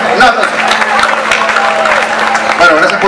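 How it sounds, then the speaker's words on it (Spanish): A theater audience applauds a performer named Lucrecia, steady dense clapping throughout, with a voice talking over it on stage. "Un aplauso para Lucrecia."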